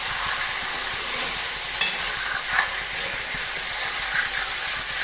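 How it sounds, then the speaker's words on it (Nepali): Chicken pieces fry in hot oil in a pan, giving a steady, close sizzle with a few sharp clicks and scrapes of stirring along the way; no one speaks. "अब यसलाई मजाले भुट्छु म"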